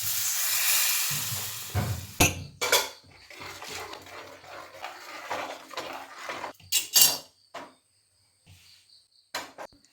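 A spoon clinks and scrapes in a metal pot while turmeric, fenugreek powder, green chilli, asafoetida and salt are stirred into whipped buttermilk, with irregular clattering knocks close by and short pauses between strokes.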